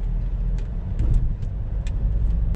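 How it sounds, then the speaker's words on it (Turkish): Interior of a 2017 Opel Astra K 1.6 CDTI diesel on the road: a steady low engine and road rumble with light ticks and clicks on top, continuous and close, no talking. "Opel Astra K ile şöyle bir sürüş yaptık"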